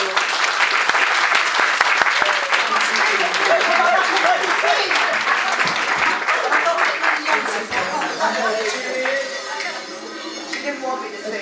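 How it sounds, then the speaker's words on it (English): A crowd claps and cheers enthusiastically, dense applause that slowly thins and fades, with some voices mixed in. "Give him a massive round of applause."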